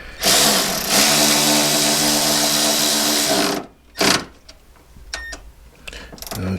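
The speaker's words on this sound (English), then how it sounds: "I'm just gonna put the screw into place and screw that in." A powered driver drives a screw into a hardwired car seat, a loud steady whir for about three seconds, then a short burst and faint clicks and handling noises.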